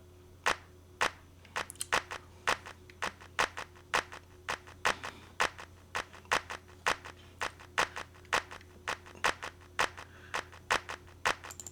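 Sharp, crisp claps repeat in a steady rhythmic pattern, bright and snappy, played alone with a faint hum underneath.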